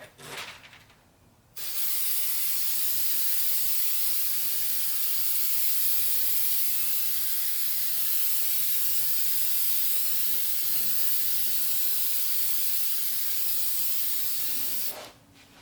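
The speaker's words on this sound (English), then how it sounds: "you're going to go ahead and spray all across the headlight" An aerosol can sprays headlight coating across a car headlight in one long, continuous hiss for about thirteen seconds, close by, with brief handling noise before and after.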